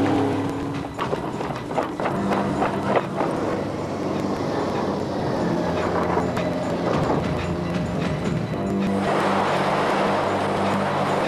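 A Citroën 2CV's small engine rumbles close by as it manoeuvres back and forth, a steady mechanical drone with faint rattles and no voices.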